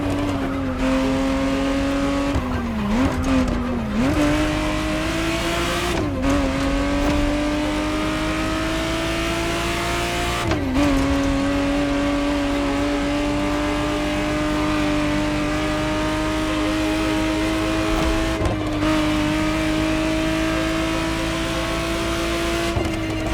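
A 1991 Ferrari Testarossa driven in the racing game The Crew Motorfest: a close, continuous engine drone with repeated upshifts and dips, a touch of tyre squeal, and no voices over it.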